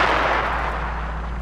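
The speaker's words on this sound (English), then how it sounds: "First reports from the city security are assuring that this explosion was an act of terrorism from the human resistance." Explosion in the video game ROOT: Rise of the Revolution, a dense, loud, sustained boom and rumble that gradually fades over just over a second, with no speech.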